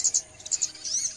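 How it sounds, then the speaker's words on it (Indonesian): Small sunbirds chirping on a morning, several quick high-pitched tweets and calls repeating in short bursts, moderately close and clear with no voices. "suasananya pagi, banyak burung kecil-kecil, burung madu itu semua."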